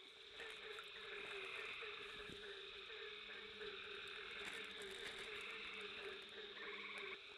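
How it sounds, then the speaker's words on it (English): Barking tree frogs call in a wetland vernal pool at night, a dense, steady chorus of croaking and insect-like trilling that runs continuously and fairly faint throughout, with no voices. "Here's a barking tree frog."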